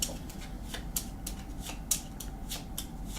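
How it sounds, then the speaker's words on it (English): Board game cards for This War of Mine being shuffled at a table, a run of soft papery riffles and taps with sharper flicks near the middle and end, close and fairly quiet with no talking. "Shuffle this card back into the Night Raid card."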